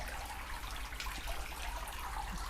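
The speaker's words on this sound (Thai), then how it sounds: "ตรงนี้จะเป็นมุมน้ำตกนะคะ" Water runs steadily down a garden waterfall beside a fish pond at a country house in Doi Saket, making a soft, continuous splashing hiss heard faintly from a short distance.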